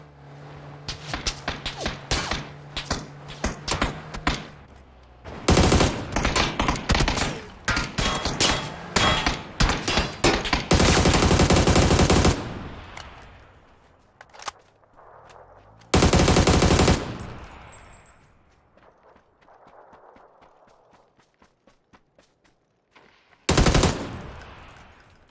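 Gunfire in PUBG: rapid automatic bursts and loud sustained volleys, with some single shots and long gaps between heavier blasts, no talk over it.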